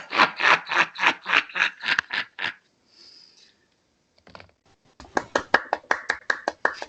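An audience at an introductory literary studies meeting claps in quick, even, rhythmic beats, stops for a moment, then resumes the same brisk clapping.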